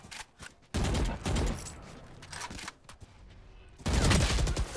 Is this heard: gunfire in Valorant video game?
yes